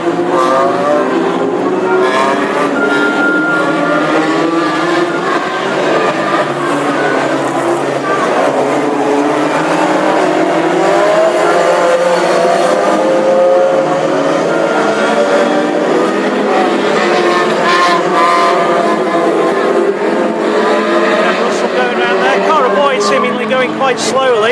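Classic hot rod engines drone and rise in pitch as several cars pass at moderate speed on installation laps before a heat at Ipswich, with a commentator talking over the continuous engine noise.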